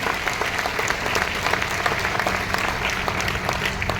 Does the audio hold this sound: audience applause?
yes